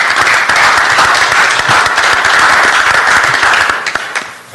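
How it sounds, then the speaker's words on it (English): A roomful of people at a city transportation committee meeting gives a round of applause, a loud, dense burst of clapping that holds steady for about four seconds and then tapers off. "Let's just give a round of applause."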